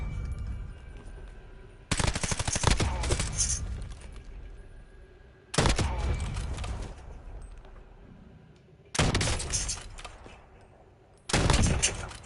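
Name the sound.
guns firing at the firing range in video game Black Ops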